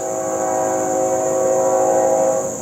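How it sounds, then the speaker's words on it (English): A passing train gives a loud, steady rolling roar with sustained tonal whining lines held across the whole stretch. "and I love that sound of that train."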